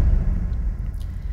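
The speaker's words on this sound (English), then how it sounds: "I added in another hit underneath" A deep, low synthesized hit layered under a game music cue, with a massive echo tail rumbling on and filling the low end before slowly thinning.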